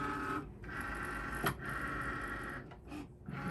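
Cricut Maker rotary blade cutting 1/8 inch fiber sheet on freezer paper, a steady mechanical whir with moving-carriage hum and a few brief pauses and clicks, close and moderately quiet.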